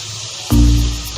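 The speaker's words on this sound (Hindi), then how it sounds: "अब हम इसमें डालेंगे लहसुन अदरक।" Ginger and garlic dropped into frying onions in a pan for dhaba-style kaleji, a sudden loud burst of sizzling that flares up, then settles into a steady hiss, close by.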